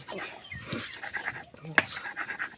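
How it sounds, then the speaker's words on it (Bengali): Spices being ground on a small sil-nora grinding stone while cooking a fish curry with spinach, producing a soft, repeated rasping scrape close by, with a brief sharper knock partway through. "এই ছোট সিল নোড়া বলে এরম বাটা হচ্ছে এটা যদি বড় নোড়া হতো ভালো বাটতাম"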